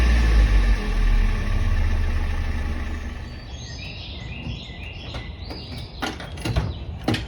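A Toyota Corolla engine idling with a diesel-like piston rattle, a steady close rumble that fades slightly over time, with birds chirping faintly in the background.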